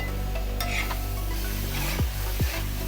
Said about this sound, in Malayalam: നമ്മൾ ഗ്രൈൻഡ് ചെയ്ത ജിഞ്ചർ ഗാർലിക് പേസ്റ്റ് ആഡ് ചെയ്യാം. എഗെയിൻ നന്നായി സോട്ടേ ചെയ്ത്